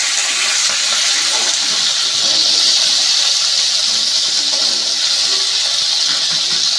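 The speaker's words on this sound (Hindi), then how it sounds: "1 मिनट तक का हम बस इसको फ्राई करेंगे" Brinjal pieces fry in a pan with a loud, steady, rushing hiss that holds nearly unchanged from start to finish, close up and with no voices.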